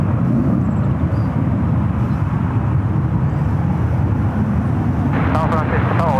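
A jet airliner landing at San Francisco International Airport, heard as a steady, loud engine roar throughout, with a brief voice coming in near the end.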